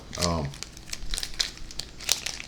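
Crinkling plastic pack for an EDC pen being opened, a few short crackles and rustles close up, with a voice talking briefly at the start.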